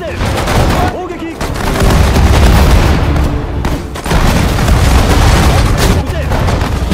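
Sudden Strike 4 Pacific War battle: dense, loud bursts of gunfire and booming artillery crash almost continuously, broken by brief lulls, with Japanese voices shouting orders over the din.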